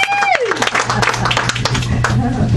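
Audience applause for a stand-up comedy host, a dense burst of clapping from a crowd heard alongside a voice talking over it.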